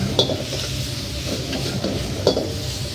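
Ginger sizzles hard in a hot wok for Sichuan jjajang while a utensil stirs and scrapes it around, with a couple of sharp metallic clinks against the pan, close and loud with no voices.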